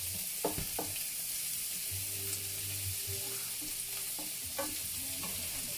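Onion sizzles and crackles steadily in a hot pan, with a few clinks and scrapes of stirring utensils breaking through the constant frying hiss.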